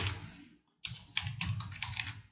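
Computer keyboard typing in bursts of quick, close clicks while code is written, with a short pause near the start before the keystrokes resume steadily.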